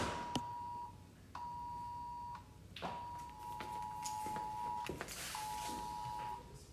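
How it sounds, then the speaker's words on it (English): A phone sounds an Amber alert tone: four sustained electronic beeps of about a second each, separated by short gaps, fairly quiet against a room background. "Amber alert."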